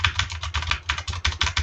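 Quick, steady keystrokes on a Razer computer keyboard during a Fortnite gaming session, close and fairly loud, with a rapid clattering rhythm and no voices.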